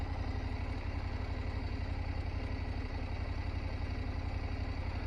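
A KTM 790 Adventure motorcycle engine idling: a steady, low, pulsing rumble with an even beat, close by and constant throughout, with no talk.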